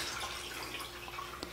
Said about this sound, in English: Fill that coffee pot up with that succulent water.